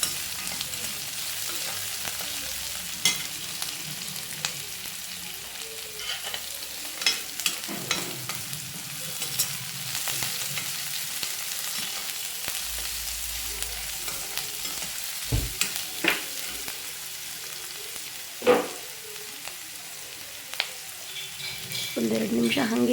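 Chopped onion and curry leaves fry in oil with a steady broadband sizzle, broken by intermittent scrapes and clinks of stirring against the pan; voices occasionally murmur faintly in the background.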